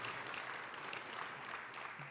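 An audience at a State of the Government address gives the transportation director a dense, steady round of applause that fills the whole moment without pause.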